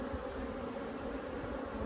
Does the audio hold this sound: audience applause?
no